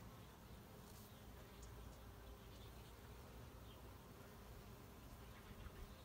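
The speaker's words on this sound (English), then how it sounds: "we've got probably 100 bees in here right now" A dense, steady drone of about a hundred bees buzzing together in a desert cottage garden, faint and continuous throughout, with no voices.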